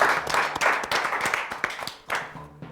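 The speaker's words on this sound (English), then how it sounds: "Let's give a round of applause." A classroom audience gives a round of applause for a student in a spelling quiz, steady clapping from a group of hands for a few seconds, with brief pauses and faint background voices.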